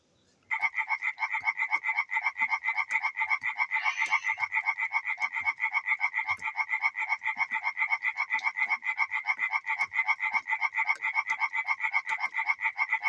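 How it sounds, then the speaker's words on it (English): A frog in Bulgaria croaks in a rapid, steady pulsing trill that starts suddenly and continues unbroken, loud and close. "This is what it sounds like when the frogs cry."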